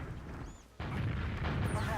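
Rocket blasts in the shooter game Team Fortress 2, with a sudden heavy booming explosion that fills the mix after a brief lull and lingers as rumbling gunfire beneath voice commentary.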